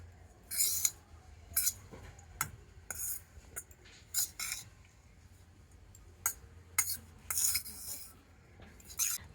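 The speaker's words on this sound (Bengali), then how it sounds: "আর এবার আমি এই শুকনো উপকরণগুলো প্রথমে একটু মিশিয়ে নেব।" A spoon scrapes and clinks against a bowl while dry ingredients, including coconut powder, are mixed together. The taps and scrapes come in short, irregular bursts, close and fairly quiet.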